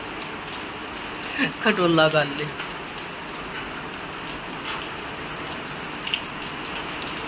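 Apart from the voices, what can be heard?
rain falling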